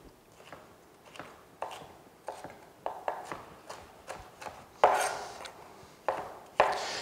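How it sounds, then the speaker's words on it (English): A knife chops deseeded vegetables into julienne strips on a cutting board, about a dozen crisp, evenly spaced cuts close by, with a few louder thumps toward the end. "we're going to give them a quick julienne"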